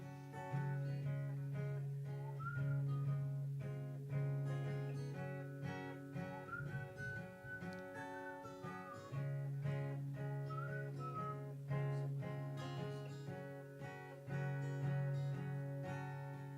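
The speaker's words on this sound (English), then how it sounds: "I'm trying to do a whistle solo at the same time" A whistle solo is carried over a song, with sustained whistled melody lines running above a steady instrumental backing throughout.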